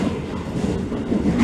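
A Keio 9000 series train runs on the Keio Line between Chofu and Fuchu as it nears Tama Reien station. From inside the car comes a brief, steady low rumble of wheels on rails.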